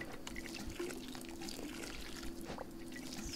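Watering plants in the video game Garden Witch Life gives a soft, quiet pouring and trickling of water that runs continuously with small splashes.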